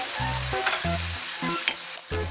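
Onions sauté with garlic in a pot for a simple miki noodle dish, making a continuous close sizzle while a spatula scrapes and taps in short bursts.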